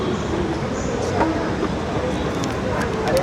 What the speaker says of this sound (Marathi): हैदराबाद मेट्रो आहे